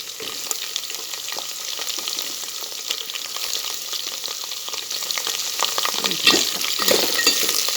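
Green chilies and onion frying in hot oil, a close, steady sizzle with scraping stirring sounds that grows louder and busier toward the end.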